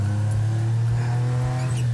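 A kei truck's small 660 cc three-cylinder engine idles close by with a steady low hum and a slightly uneven pulsing throb, with no talk.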